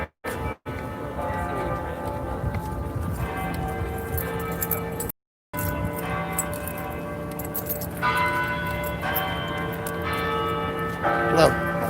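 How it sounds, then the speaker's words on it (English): Church bells ringing at five o'clock to mark a council meeting, steady sustained metallic tones continuing throughout at moderate distance, with brief dropouts and a few clinks near the end. "That's the 5 o'clock bells indicating of council meeting."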